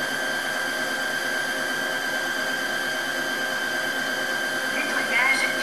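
A Tineco Floor One S3 cordless wet vacuum runs its brush roller self-cleaning cycle, a steady whirring motor hum with a high tone and water feeding onto the roller, with a brief louder burst near the end.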